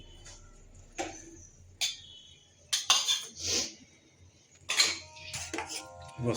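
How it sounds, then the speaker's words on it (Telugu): Metal spoon scraping and clinking against a pot while stirring a condensed milk mixture, in scattered irregular knocks and scrapes, some sharp and close, with quiet pauses between. "ఒకసారి స్పూన్తో కలుపుకొని దాంట్లో పోసేయండి"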